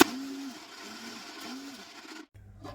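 A grinder whirs steadily as it blends fenugreek paste with curd, a dense grinding hum that cuts off abruptly near the end.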